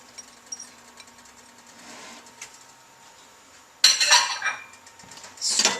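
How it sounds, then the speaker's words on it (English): Chopped carrots and celery tumble into a soup pot with a burst of clattering, knocking bits against metal, then a second louder spill of vegetables near the end after a quiet stretch. "Now let's add our carrots. And our celery."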